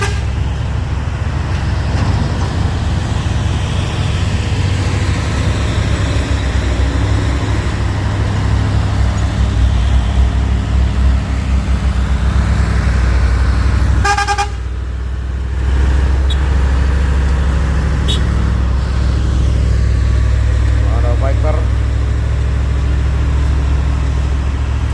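A convoy of large loaded trucks rolls by in a sustained heavy roar of road and engine noise. The rumble dips briefly midway, then resumes with a few faint clanks and squeaks.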